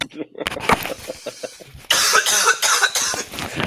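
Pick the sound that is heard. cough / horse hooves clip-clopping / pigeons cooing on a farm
cough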